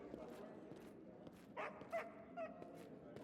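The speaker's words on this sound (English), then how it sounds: "I'm really glad that there's a dog in my throne room." A dog in the throne room of Pathfinder: Kingmaker gives a few short yips and barks, about three brief bursts over steady game background sound.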